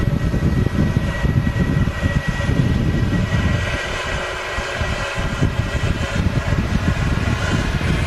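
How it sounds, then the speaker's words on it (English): Pratt & Whitney 1100G aircraft engines idling at Manchester Airport: a steady, loud, broadband roar and rumble that holds throughout, dipping briefly midway, with no voices. "Distinct idle sound of the Pratt & Whitney 1100G engines there."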